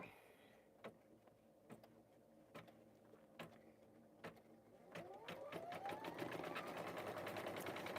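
An embroidery-style sewing machine stitching a name badge, starting with a few isolated clicks and thumps before breaking into a steady, fast, buzzing run of stitches that grows louder and continuous, with no talking over it.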